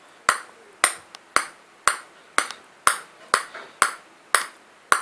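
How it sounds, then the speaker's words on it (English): A table tennis ball bounces on a Hayabusa ZXi blade in a steady series of about ten crisp, close pings, evenly spaced at roughly half-second intervals, with quiet gaps between. "I'm hitting around all the blade. For me, it feels very controlled, and it's the same sound even when hitting the edge."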